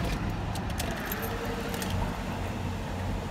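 Car keys jangle inside a 1971 Chevelle twin-turbo LSX: a few quick metallic jingles in the first second, then a steady low rumble for the rest, with no talking.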